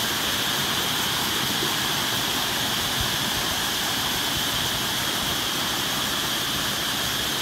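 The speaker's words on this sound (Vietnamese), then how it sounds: "Các bạn phải đứng đây các bạn mới nghe được, thấy rõ được cái độ mức độ nguy hiểm của ngọn thác" Thác Già làng (Thác 79), a waterfall in the Central Highlands, roars in a dense, unbroken wash of rushing water, loud and close throughout with no voices.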